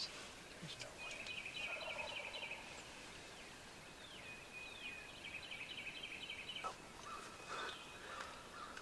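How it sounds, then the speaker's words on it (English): Wild turkeys gobbling in Kentucky woods at dawn during a hunt, with several distant gobbles and crow caws over faint steady background noise. "we already heard the first one gobble"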